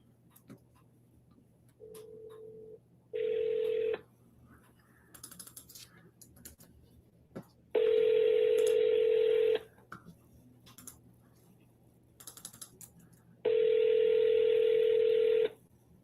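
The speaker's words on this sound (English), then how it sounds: "let me call Natalie. It's the new lead that I just got" A telephone call is placed: short dialing tones sound first, followed by long, evenly spaced ringing tones with quiet gaps between them, clear and close, with no voices.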